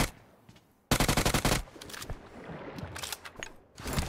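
Rapid gunfire from the video game PUBG Mobile: after a quiet, low rumble, a loud burst of closely spaced shots rattles for about half a second, followed by fainter scattered in-game noise and clatter.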